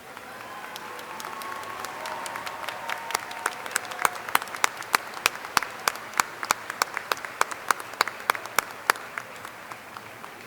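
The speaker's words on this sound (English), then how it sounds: "so that the graduates and we can applaud you" A large indoor crowd at a university commencement applauds, the clapping growing denser and louder as it goes, with sharp individual claps standing out.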